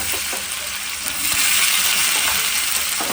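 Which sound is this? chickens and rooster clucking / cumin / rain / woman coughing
cumin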